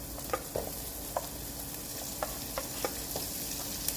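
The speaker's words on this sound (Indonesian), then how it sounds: "kemudian menggunakan wajan yang sama, kurangi minyaknya, lalu tumis bawang merahnya" Shallots sautéing in a little oil in a wok for sambal, with a steady close sizzle and a series of sharp stirring scrapes of the spatula every half second or so, no voices.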